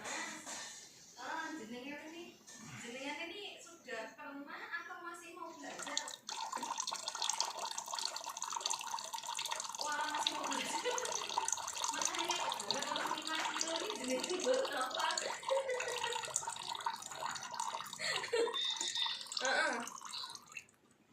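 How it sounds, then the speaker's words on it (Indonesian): Water is poured off a sediment sample while rock is tested for gold, a continuous splashing, trickling stream nearby that follows and partly runs under someone talking. "Saya tiriskan airnya, kita ambil endapannya ya."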